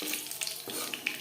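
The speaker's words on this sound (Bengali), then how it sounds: "ফোড়নে দিয়ে দিলাম একটা শুকনো লঙ্কা" A dried red chili sizzles in hot oil for tempering in a kadai used to fry fish, giving a brief, soft, crackling hiss with a few small pops, close by and alone.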